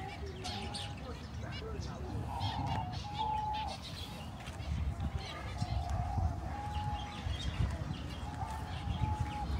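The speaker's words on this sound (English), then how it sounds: "Look how many birds they have." Birds call and chirp in short repeated notes at a distance, heard throughout a summer walk through the city of Stafford in England, under steady street noise and a person talking.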